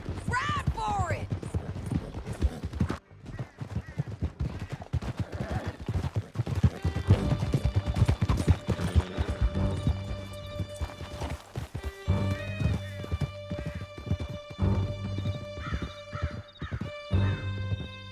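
Horses gallop hard through a canyon in Red Dead Redemption 2, hooves pounding in a fast steady rhythm with a whinny early on, as characters shout and talk over the ride and music swells underneath.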